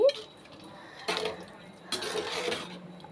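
A spoon scrapes and clinks against a pot of bitter gourd curry as it is stirred, two short bursts of metallic rattling close by, separated by a quiet pause.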